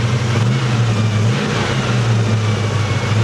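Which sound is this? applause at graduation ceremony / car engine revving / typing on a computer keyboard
car engine revving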